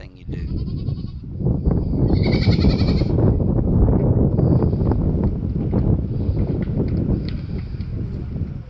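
Goats bleat repeatedly at close range inside a homestead goat barn under construction, with loud, shaky calls over steady background noise and thumping activity.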